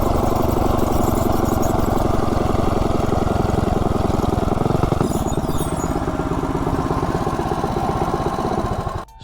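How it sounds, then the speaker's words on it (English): A modified motorcycle engine, fitted with a stock driver and a 60-tooth rear sprocket, runs steadily and loudly close by with a dense, pulsing drone, then cuts off abruptly at the very end. "So the bike actually runs pretty good."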